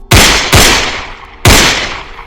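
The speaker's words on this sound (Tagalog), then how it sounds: "Sunod noon ang mga putok ng baril" Three loud gunshots, sharp and close, cracking out separately with short echoing decays between them, used as a dramatic effect in a Tagalog crime story about an attack by a motorcycle riding-in-tandem.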